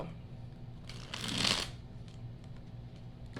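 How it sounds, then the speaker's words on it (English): Tarot cards are shuffled by hand during a career pick-a-card reading, making one brief, close riffling burst in the middle over a quiet room. No one speaks. "They're telling me to shuffle a second time."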